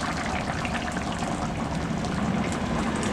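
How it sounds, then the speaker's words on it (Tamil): Liquid ingredients with curd poured into a pan of fried sabzi for puri and chapati: a steady, close splashing and sizzling pour lasting a few seconds, with no voices. "இதெல்லாத்தையும் ஒன்றா ஊற்றிக்கலாம்."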